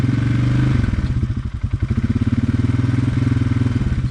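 A motorcycle fitted with a clutch kit with a silver spring, in high range, steady mid-pitched engine drone with a rhythmic pulsing beat that dips briefly then climbs back as revs build toward clutch engagement around 2300 RPM, close and loud.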